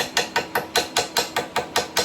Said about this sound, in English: I'm using my special hammer pliers right here.